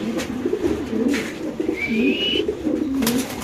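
Pigeons shown for sale coo repeatedly at close range in low rolling calls, with a thin whistle-like tone briefly rising above them midway.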